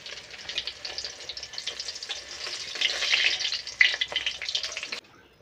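Malabar spinach leaf fritters fry in hot oil with a continuous crackling sizzle, bursts of spatter rising and falling and a few sharper pops, then stopping abruptly near the end.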